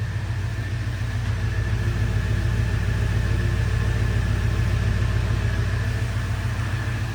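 A 1977 Ford F-100 Custom idles with a soft, steady exhaust burble, low and even with a faint rhythmic pulse, held close by and constant throughout with no voices.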